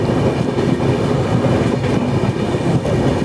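Sachkhand Express passenger train running on rails near Manmad junction, heard from on board as a loud, steady rumble with faint clickety-clack of wheels and a continuous roar of carriage noise.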